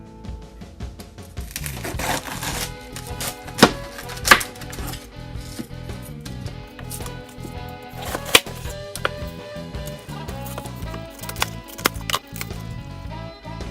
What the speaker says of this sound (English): I'm going to use a sharp knife to cut down the middle and cut out the core, and then I'll begin slicing into small thin strips.